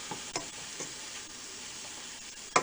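A Monte Cristo sandwich topped with onions frying in a pan, with a steady close sizzle, a few soft scrapes, and a sharp clack as it is flipped at the end.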